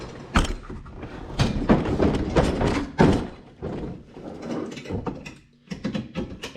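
Clunks and metallic thumps sound as the latch on a Clam Yukon XL Thermal ice fishing shelter is worked into place, a close, irregular series of knocks and rattles that stops briefly before a few more bangs.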